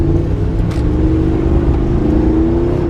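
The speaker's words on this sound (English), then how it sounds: "I just drifted on dry pavement." A Smart car's engine drones loud and steady, revving with a rising whir from close by inside the car as it slides on dry pavement, no voices over it.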